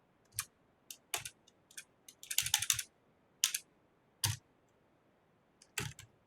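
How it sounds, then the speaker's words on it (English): Bursts of keystrokes on a computer keyboard, a handful of separate clicks and one quick flurry in the middle, close and fairly quiet with pauses between. "I have a sticky enter key on my keyboard"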